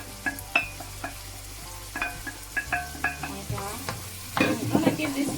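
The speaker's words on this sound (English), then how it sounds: "I'm going to give this a quick stir" A spoon stirs cassava and beans with tomatoes, onions and garlic in a frying pot, giving a series of close scraping knocks in an uneven rhythm over a soft sizzle, ending in a busier rattling burst.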